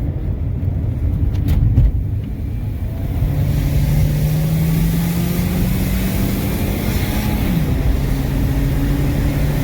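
Steady engine hum of an old Saturn Ion car driving, with a low drone that rises slightly in pitch as it accelerates, continuous road noise throughout.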